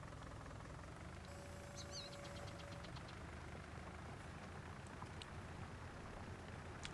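A tractor engine idles steadily in Farming Simulator 19, a faint continuous low drone throughout with a brief thin whine and a few small ticks early on.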